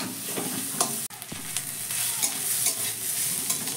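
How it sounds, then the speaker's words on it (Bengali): Grated carrot and onion being stirred in a frying pan over a medium gas flame, a steady close sizzle with scraping spatula strokes and a brief knock of the utensil, no talking. "এবার গাজরটা পেঁয়াজের সঙ্গে আমি একটু 5-6 সেকেন্ড মতো নাড়াচাড়া করে নিচ্ছি।"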